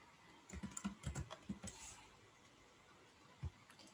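Keyboard typing on a computer while entering values into GeoGebra: a quick burst of several clicking keystrokes in the first two seconds, then a pause and one more tap, quiet and close with no talking.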